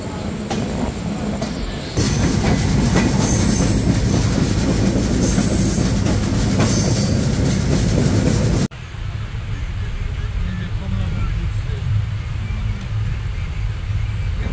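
Padma Express train pulling out of Tejgaon railway station, a loud continuous rumble of wheels and carriages with rhythmic clatter and occasional squeal, its tone shifting sharply partway through as the recording moves from open air to a more muffled interior.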